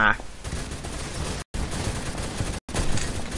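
Automatic gunfire in the Phantom Forces shooter game, a dense, loud, continuous burst of shots with brief cuts in the sound and voices talking through it.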